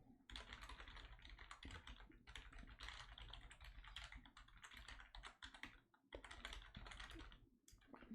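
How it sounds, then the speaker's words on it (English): Rapid, steady typing on a computer keyboard during a live tarot reading stream, dense clattering keystrokes filling the whole stretch with only brief pauses, close and fairly loud, no talking. "That is me on the wrong home keys."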